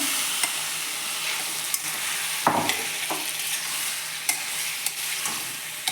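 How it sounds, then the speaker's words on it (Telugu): Marinated chicken pieces sizzle and fry in a spicy curry pan, with steady crackling under repeated sharp scrapes and clacks of a spoon stirring the pan close by. "ఇప్పుడు మ్యారినేట్ చేసి పెట్టుకున్న చికెన్ పీసులు వేసుకునేస్తాము"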